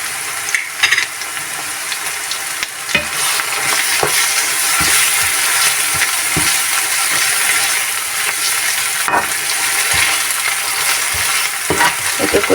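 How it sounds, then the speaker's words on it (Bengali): Ginger paste and spices sauté in a hot pan for a sea fish and pointed gourd bhuna, with a continuous close sizzle broken by sharp clicks of stirring against the pan. "আদা বাটা 1 চা চামচ দিয়ে 1 মিনিট কষিয়ে নেব।"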